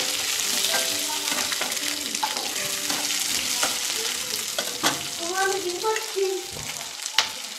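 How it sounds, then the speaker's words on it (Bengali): Green chillies and capsicum stir-fried in a hot pan, with steady sizzling and repeated scraping strokes of a spatula stirring the vegetables, close and fairly loud throughout. "কেটে রাখা দুটো কাঁচা লঙ্কা দিয়ে দিলাম, ক্যাপসিকামটা দিয়ে দিলাম, দিয়ে আমরা নেড়ে নেবো"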